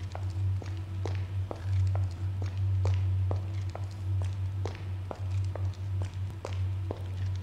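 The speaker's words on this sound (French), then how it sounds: "les bruits de pas du héros sont étranges" The hero's footsteps in the video game Arx Fatalis, a steady run of regular soft thuds at a walking pace over a constant low droning hum, moderately quiet throughout.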